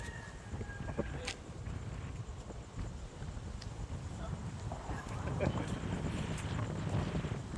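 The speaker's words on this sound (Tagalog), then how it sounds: "Lakas ng hangin, oh." Strong morning wind gusts buffet the microphone in a steady rough roar, with a person talking over it.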